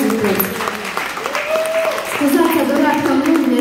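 Audience applause at a family celebration with a surprise greeting, clapping steadily throughout under music and a voice.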